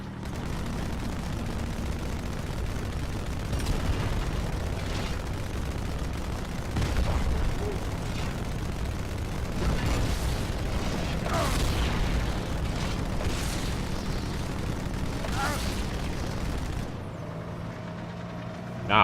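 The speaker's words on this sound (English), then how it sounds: "I got hit by 2 direct shots from the Wraith, and I'm still kicking." Plasma blasts from a Wraith tank in the Halo 2 video game go off again and again, a series of booming explosions over dense, continuous battle noise, with voices talking now and then.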